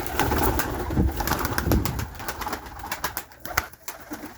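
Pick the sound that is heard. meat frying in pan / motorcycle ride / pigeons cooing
pigeons cooing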